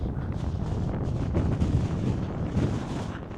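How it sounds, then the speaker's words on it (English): Strong wind buffets the microphone on a mountain summit in the Scottish Highlands, a loud, continuous roaring rush with gusting surges, alone without talk. "Oh, it's super windy."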